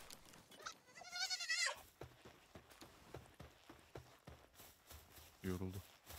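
A lamb creature in the Palworld video game gives two short, wavering bleats, one longer near the start and one brief near the end, among footsteps and clatter while people talk.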